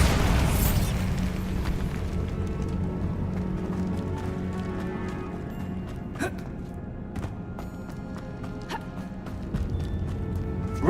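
A Bombarda spell blast in Hogwarts Legacy opens as one heavy booming explosion, then gives way to rumbling debris and scattered sharp cracks and clatters of falling rock in a cave that slowly settle.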